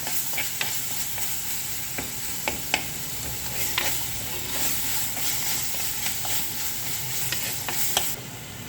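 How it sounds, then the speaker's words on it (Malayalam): Tomato, green chilli and curry leaves sauté in a pan for a tuna curry: a constant close sizzle with regular spatula scrapes and stirs every second or so, and no talking. "ആ കൂട്ടത്തിൽ തന്നെ തക്കാളിയും പച്ചമുളകും കറിവേപ്പിലയും കൂടി ഇടാം. നന്നായിട്ട് വഴറ്റി കൊടുക്കാം."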